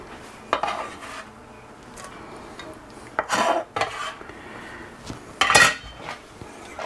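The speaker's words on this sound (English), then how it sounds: "Give it a nice stir." A metal spoon stirs smoked turkey gumbo in a pot, giving a few separate bursts of scraping and clinking against the pot, close up and without talk, with quiet pauses between strokes.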